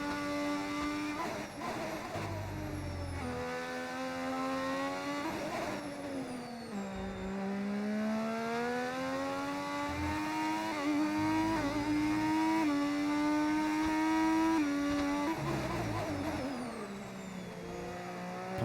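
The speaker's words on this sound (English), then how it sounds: "God, these engines sound good" Formula 1 racing car engines in the video game F1 25 scream steadily at high revs, rising and falling through gear changes over a long continuous stretch, loud and close with no talking.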